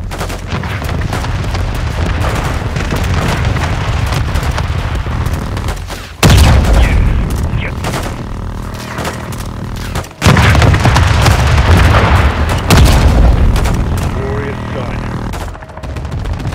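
Aircraft strike on a building in Call of Duty: Modern Warfare 2, with loud, dense booming blasts and rolling gunfire, two sudden heavy impacts kicking in mid-sequence amid continuous rumbling combat noise.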